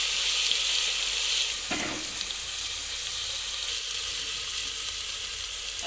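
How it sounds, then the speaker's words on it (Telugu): Onion, ginger and garlic fry in oil inside a pressure cooker, giving a steady, close hiss of sizzling that runs the whole time with one brief stirring scrape near the start, no voices. "కొన్ని ఆనియన్, కొద్దిగా మనం అల్లం వెల్లుల్లి వేసుకొని సువాసన పోయే వరకు మనం ఫ్రై చేసుకోవాలి."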